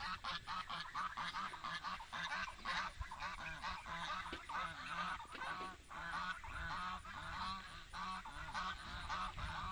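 A pen full of noisy poultry keeps up a dense, continuous chorus of honking, clucking calls, many birds overlapping close by at a fairly quiet level with no pauses.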